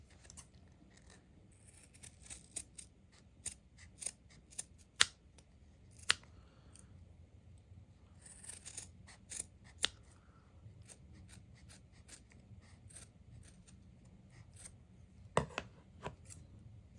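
Scissors trim the frayed edges of a DIY Porsche-style pull strap door handle. Quiet, close snips come in irregular clusters over a faint background, with no talking.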